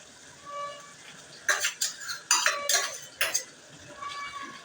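Boiled gongura paste being added to an eggplant curry in a pot: a quiet cooking murmur, then a cluster of sharp metal clinks and scrapes of a spoon against the pot, close and fairly loud, fading back to low sizzle.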